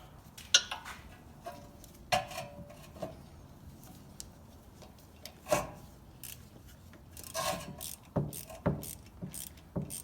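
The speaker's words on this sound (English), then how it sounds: "I just use a ratchet on this because I don't want" A hand ratchet clicks in short bursts while working on the rear brake of an Audi A6 3.0T, with intermittent metallic clicks and clanks, quiet and close.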